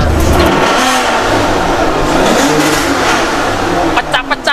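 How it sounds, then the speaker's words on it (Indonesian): An Aston Martin sports car engine revs hard and continuously after a push-button start, a loud, throaty roar that holds steady before breaking into sharp pops near the end. "Aston Martinnya James Bond. Langsung ditekan"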